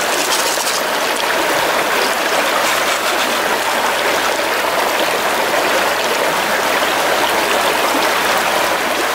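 Water runs steadily through a small gold-panning sluice, a loud, continuous broadband rushing and splashing that holds even throughout with no voices.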